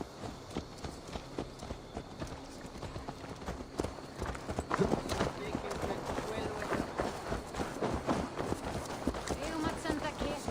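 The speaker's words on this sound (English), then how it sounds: "Let's return the horse." Rapid hoof clip-clops of a horse moving at pace in Assassin's Creed Valhalla, steady and fairly close, with background game sounds and some voices mixed in.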